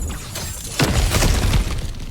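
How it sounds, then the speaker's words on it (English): Breakable objects shattering in God of War Ragnarok, a loud crash of splintering debris over a booming game soundscape, close and dense for about a second. "back to smashing through things for fun and profit"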